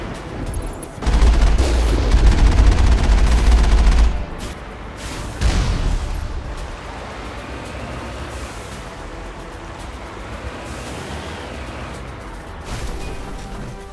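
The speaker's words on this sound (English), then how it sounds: "There must be a way to shut that gun down." In the Mass Effect video game an artillery gun pounds out a dense, loud roar of firing lasting a few seconds. A separate heavy boom follows, then a lower rumbling background remains.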